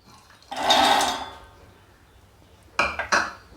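Roasted peanuts are tipped into a mixer jar, making a bright rattling pour of nuts against the container, then a pause, then two short clattering knocks and spills, all close and without speech.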